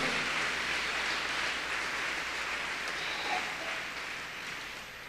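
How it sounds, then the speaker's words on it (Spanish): A church congregation applauds in a loud, hissing wash of clapping that holds steady, then fades slightly toward the end. "denle un fuerte aplauso"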